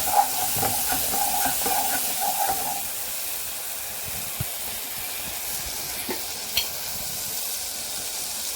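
Tomato masala gravy with garam masala, coriander powder, kasuri methi and turmeric simmers and fries in a pan with a steady hissing sizzle and bubbling, plus a few stirring clinks early on.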